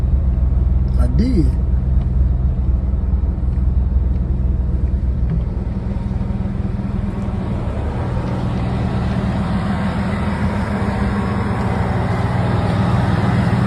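A 1990s Chevrolet Camaro convertible engine idles with a steady low rumble throughout, while a voice briefly speaks near the start.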